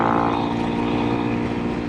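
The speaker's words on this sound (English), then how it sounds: "Great for motorcycle riding" A Honda CRF 250 Rally motorcycle engine drones steadily while riding on rural Iowa roads, a continuous buzzing hum with wind, no speech.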